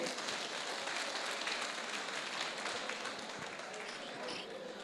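Guests at a centenary celebration clap for Amma, Smt. Ratnibai Chordia, a faint, distant-sounding ovation of many hands, dense and even throughout the few seconds and fading a little toward the end.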